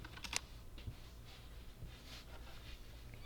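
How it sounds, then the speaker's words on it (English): Quiet keystrokes on a computer keyboard tap out a password in a short irregular run of clicks, faint and close, with no voices. "Type in the super secret password"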